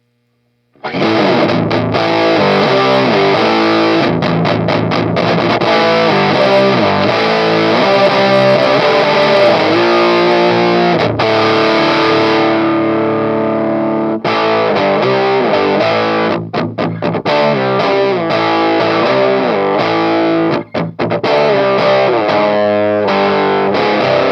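An electric guitar plays through a 903 Effects Geranium distortion pedal, loud and sustained for about twenty seconds, with chords and short breaks.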